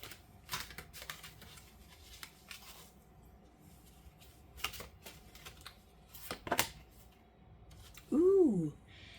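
Oracle cards being shuffled and handled during a tarot reading, soft scattered papery flicks and taps, faint and intermittent, ending with a brief louder sound.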